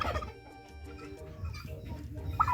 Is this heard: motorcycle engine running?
no